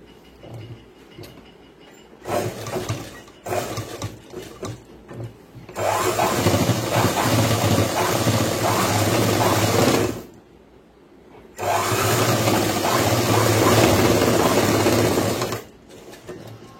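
A sewing machine stitches a boys' school uniform pant in two long, loud, steady bursts of whirring, with quieter short runs and pauses between them.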